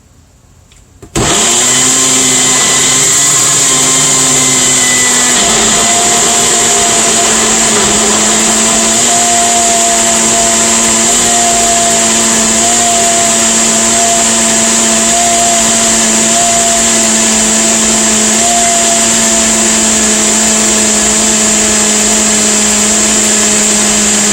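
A blender whirs continuously at close range while blending a smoothie, starting abruptly after a brief quiet moment and then holding a loud, steady motor drone with no talking.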